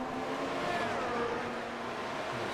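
Race cars on the Suzuka circuit in the iRacing sim game, a steady, continuous engine drone with a faint rising whine, heard without any voices over it.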